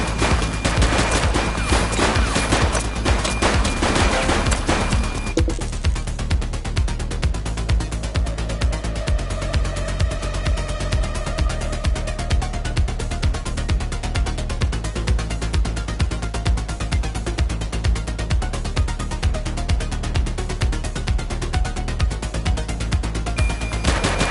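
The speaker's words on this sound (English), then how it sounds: "Light them up! Shots fired!" Rapid, sustained gunfire from a police shootout in the street-pursuit video game The Precinct, loud dense bursts of shots running continuously over a driving backing track.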